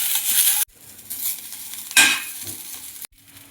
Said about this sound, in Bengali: প্রথমে দেবো ঘি, আমি তেল দিয়ে বানাই না, বহুত ধোয়া বেরোচ্ছে। এই ক্যাপসিকামটাকে দিয়ে দেবো